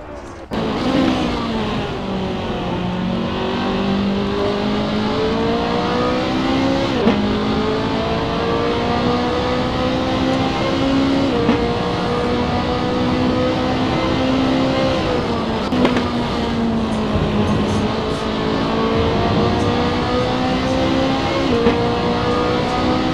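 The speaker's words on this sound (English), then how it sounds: "Driving the white BMW M3 car." Engine of a white BMW M3 GT2 race car at the Imola circuit in a racing game, loud and close, revving steadily through gears with rising pitch sweeps and brief shift dips, a commentator's voice faintly beneath.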